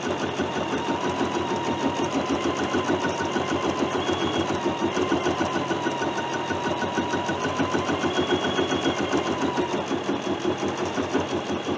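A quilting machine stitches an edge-to-edge design with a constant rapid mechanical chatter and motor hum, steady and close throughout with no pauses.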